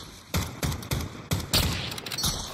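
Tundra sniper rifle fire in Call of Duty Warzone: five or six sharp, loud shots at uneven intervals, each a close crack with a booming tail, the last few overlapping into a dense burst.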